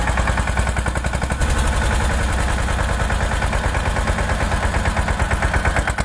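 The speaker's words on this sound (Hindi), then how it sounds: "दमदार ट्रैक्टर" A water-cooled Field Marshal-engined mini tractor runs with a hydraulic plough, giving a loud, continuous rapid chugging beat that stays steady throughout with no voices.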